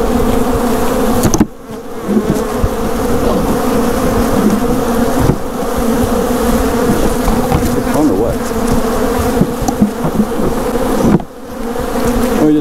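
Dense, loud buzzing of a mass of honeybees as a package of bees is shaken out, continuous and close, broken by a few brief jolting gaps from the shakes.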